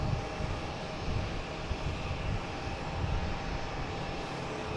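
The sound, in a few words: Delta Airbus A220 jet aircraft engine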